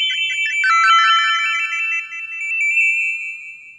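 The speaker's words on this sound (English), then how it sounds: "that's how you make a coin ring sound with the xalophone" Bright, bell-like chiptune tones from an 8-bit coin or ring sound made with a xylophone chime in quick ascending runs, repeating and shimmering like a retro game pickup jingle, with no voices.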